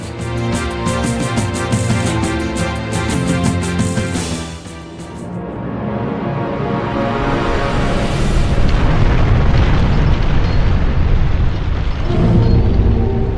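A sound effect of multiple nuclear explosions: a massive rumbling blast swells and roars, with a deep, sustained low boom and crackling debris rolling on for several seconds.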